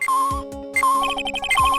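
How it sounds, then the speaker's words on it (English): Electronic metal detector beeps and warbling tones in Phoenix Wright: Ace Attorney Trilogy repeat in quick patterns, loud and synthetic, with a pulsing chirp rising and falling over about two seconds. "That's the sound of the metal detector's signal bouncing off something metallic."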